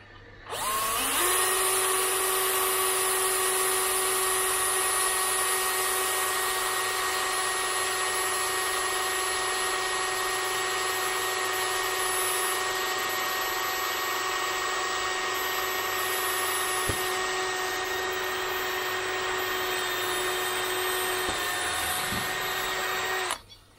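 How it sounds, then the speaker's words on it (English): A power drill whines continuously at a steady pitch for over twenty seconds, drilling a hole in a short piece of pipe, loud and close, with a few faint knocks near the end. "We drill another hole"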